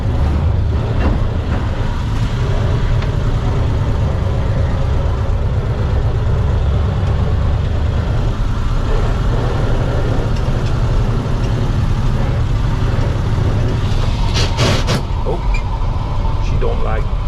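A 1937 Ford panel truck with a non-synchronized manual gearbox and manual drum brakes drives along, its engine a steady loud rumble throughout, with a few brief sharp clunks near the end.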